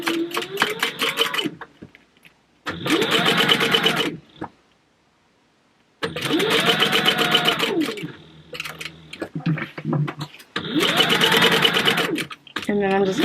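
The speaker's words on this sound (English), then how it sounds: "I'm just going to sew right back down to where my other mark is" A sewing machine stitches a leather wallet outer panel in several sustained runs of close, rapid mechanical chatter, stopping between bursts for a few seconds of quiet, with a little handling noise in one gap.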